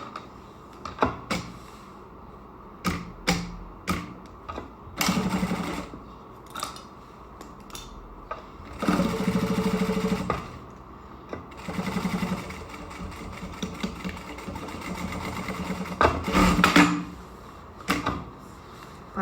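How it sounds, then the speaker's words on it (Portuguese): Sewing machine running a seam on tricoline cotton fabric for a pouch panel: short stitching runs and longer whirring stretches, broken by clicks and handling noises, close by and without talk. "Agora é só ir na máquina e passar uma costura."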